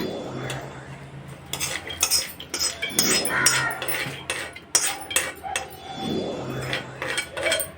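A metal spoon scrapes and clinks against a vessel while mixing laddu mixture with cardamom powder, fried cashews and raisins, in close, irregular bursts of stirring with no talking.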